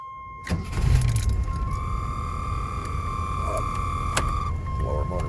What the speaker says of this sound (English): let's see if this thing will start up